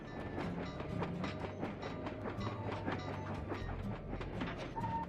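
A train in the video game Sly 2 rumbles along with rhythmic clickety-clack from the rails, steady and moderately close, with a brief whistle-like tone near the end.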